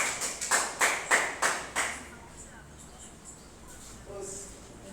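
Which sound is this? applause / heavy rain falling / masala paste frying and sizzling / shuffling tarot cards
applause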